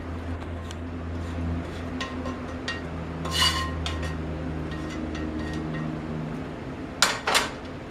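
Fried cooked ham set down onto a plate, with soft clinks and scrapes of dishware and utensils, quiet and close, a few sharper taps near the end.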